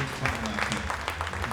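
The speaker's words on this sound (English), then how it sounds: "Melinda Herman, applause." Spectators applaud at a women's 10 m air pistol final, a brief burst of scattered clapping from a crowd, with voices talking faintly underneath.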